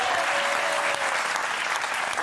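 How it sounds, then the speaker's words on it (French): A studio audience on a French television talk show breaks into dense, sustained applause, loud and continuous for the whole moment with no gaps. "applaudissements pour elle"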